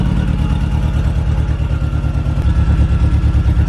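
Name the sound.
MK1 VW Golf 1.8t engine running with an exhaust leak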